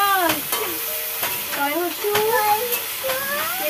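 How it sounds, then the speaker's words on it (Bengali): Cauliflower frying in a pan in a village kitchen, a continuous close sizzle with occasional stirring clatter, while a voice talks over it with rising and falling intonation. "চলো ফুলকপিটা ভাজা ভাজা করি।"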